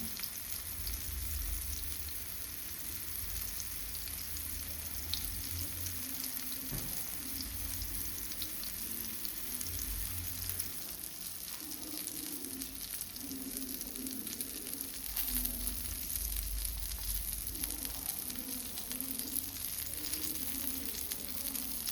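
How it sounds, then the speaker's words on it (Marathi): Rava-coated chicken shallow frying slowly in a pan over low to medium heat, a soft continuous sizzle with occasional low rumbles and faint clinks, fairly quiet and without talking. "Slow to medium गॅसीचेर slowly fry जावंक जाय."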